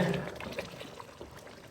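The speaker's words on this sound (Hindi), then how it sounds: "अब हमने इसमें देखें उबलता हुआ गर्म पानी ऐड करना है, कम से कम 2 कप के बराबर पानी ऐड करेंगे।" Boiling hot water is poured into a pot of browned meat for a drumstick curry, a brief splashing, trickling pour that fades quickly. No one speaks.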